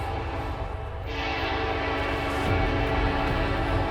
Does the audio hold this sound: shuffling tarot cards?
no